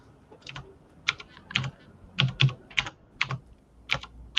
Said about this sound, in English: Hear my old-fashioned typing skills there.